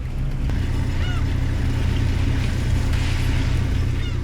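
A crab fishing boat heads out to sea with its engine droning loud and steady, a low rumble dominating throughout, with faint bird calls above it.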